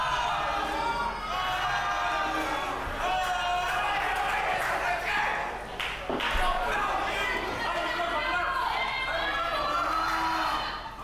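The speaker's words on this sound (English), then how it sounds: "The crowd screaming, just yelling at the top of their lungs" Wrestling crowd at a lucha libre championship match screaming and yelling at full volume, a dense sustained roar with a commentator talking over it and a thud of impact near the end.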